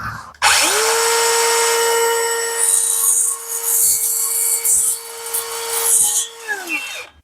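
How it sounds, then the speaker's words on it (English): A circular skill saw cuts through a window screen frame, spinning up to a loud, steady high whine that lasts about six seconds and winds down at the end. "I know for a fact that you can just use a skill saw."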